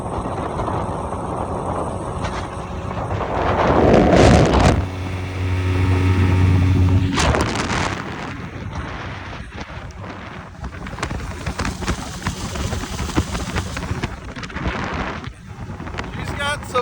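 A small motorboat with a swapped engine runs on a lake, motor droning as it pulls away amid wind buffeting and splashing, with people talking over it.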